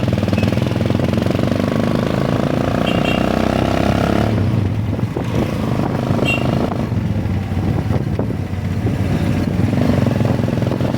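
A motorcycle engine runs close by, a loud, rough idle that shifts in tone midway as it is revved, with a steady mechanical rumble throughout.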